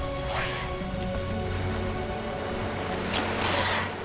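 Steady rain falls with a continuous hiss in the video game Lara Croft and the Temple of Osiris, accompanied by a faint low tonal hum and a couple of brief louder splashes.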